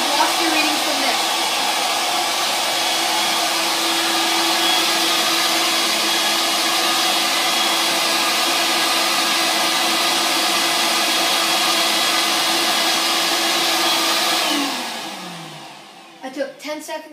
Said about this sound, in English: turn on the air pump, and then after I'm just going to hit the collect data button